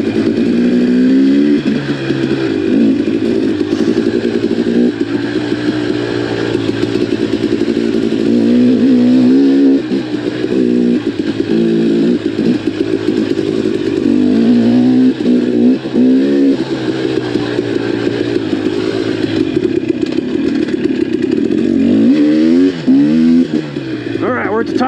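Dirt bike engine on the Timberline to Hillerton 50-inch ATV trail in Taylor Park, Colorado, droning steadily close by with repeated revs and throttle swells as the rider climbs the rough track.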